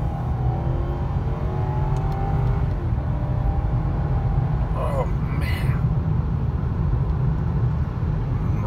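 A car pulls away from a green traffic light, its engine rising briefly through a steady close road rumble before settling into a constant drone.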